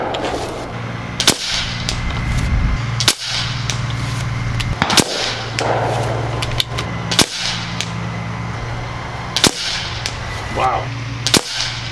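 Nova Liberty air rifle firing 26-grain AVS slugs at a 100-yard target, sharp cracking shots spaced a couple of seconds apart over a steady outdoor background, about half a dozen reports.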